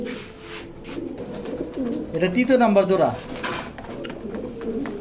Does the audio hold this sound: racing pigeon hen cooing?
yes